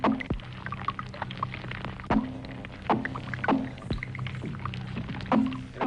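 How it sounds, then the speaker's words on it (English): Sea robin fish call underwater in a series of croaking, grunting pulses with sharp thumping onsets spaced irregularly about every second, over a steady murky water hiss. "Sounds of the Sea, Volume 1. We're listening to The Sea Robin."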